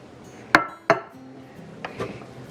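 A metal serving spoon clinks twice sharply against a pot while rice is scooped onto a plate in a home kitchen, followed by a couple of softer taps and scrapes.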